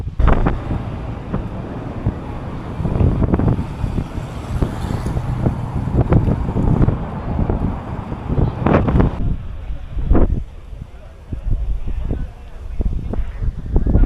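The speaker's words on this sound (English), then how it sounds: "I don't even know if you can hear me with the wind" Wind buffets the microphone on a small island near Tokyo, a gusty low roar that rises and falls throughout while a voice speaks now and then.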